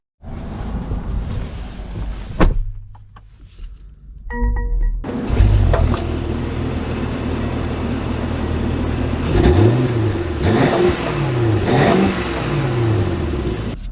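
A 2023 Mercedes-Maybach GLS starts off and accelerates, its engine rising into a loud, steady, close drone with swelling revs, after a brief quieter pause and a few clicks near the start.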